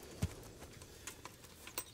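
A horse's hooves clip-clop faintly in the game Kingdom Come Deliverance, a few soft, spaced hoof falls arriving from a distance.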